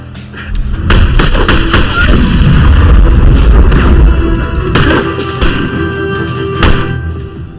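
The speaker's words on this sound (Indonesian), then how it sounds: "terjadi aksi baku tembak yang memanas" A heated gunfire exchange in an action film: dense, loud shots and booming blasts pile up continuously, with a few sharp cracks standing out toward the end.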